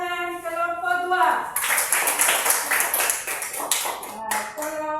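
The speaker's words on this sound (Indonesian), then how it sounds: "Bagus, tepuk tangan kelompok 2." A burst of group applause in a classroom, hands clapping briskly for a few seconds, with a voice speaking before and after it.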